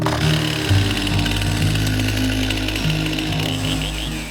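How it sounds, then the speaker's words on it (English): Chainsaws roar steadily while limbing trees in a forest for wildfire fuel reduction, a loud continuous engine whine with slight pitch shifts as the cutting load changes, and no talk over it. "you see some of the chainsaw operators limbing trees"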